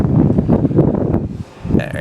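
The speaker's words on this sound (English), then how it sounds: "It's a bit windy." Wind buffets an outdoor microphone, producing steady low rumbling and blustery noise across the whole clip, briefly easing before picking up again.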